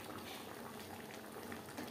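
A pot of masoor lentil dal with snake gourd boils in a continuous low bubbling simmer, close and fairly quiet, with no one speaking.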